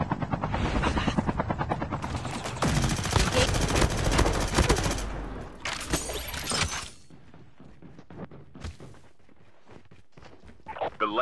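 Helicopter rotor chopping in Call of Duty: Mobile, mixed with bursts of gunfire and game effects, loud at first then fading lower while someone talks over the action.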